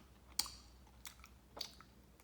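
Quiet, close chewing on a Krispy Kreme Halloween doughnut topped with chocolate, fudge and Cinnamon Toast Crunch cereal, with three soft crunchy bites spaced over about two seconds.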